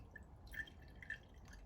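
Water drips and trickles into a boat's water tank being filled from a hose, a soft, close patter with a couple of brighter drip plinks over a low steady background.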